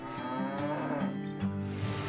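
Cattle lowing on a farm, several deep, drawn-out moos overlapping one another across a couple of seconds, close and fairly loud with no talk.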